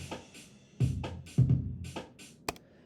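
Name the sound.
MIDI drum clip playing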